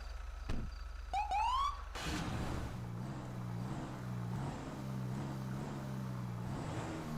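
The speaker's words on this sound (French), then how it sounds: "Vous repartez à mes coups de sirène." A US military police car siren gives a few short whoops and yelps, then the car engine pulls away and idles on with a low hum.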